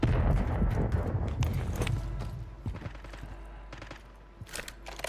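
Gunfire in Call of Duty Warzone on Rebirth Island, a few distant cracking shots and clattering bursts scattered across the moment, with no talk.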